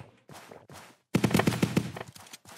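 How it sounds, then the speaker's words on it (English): Shots fired through windows in a zombie shooter game: a few single cracks, then a dense rapid burst of gunfire, up close and moderately loud, with no talking. "Oh, I can shoot through the windows."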